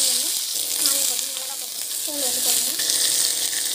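Vegetables sautéing in hot oil with salt added, giving a steady, close bright sizzle that holds through, with a faint voice murmuring underneath.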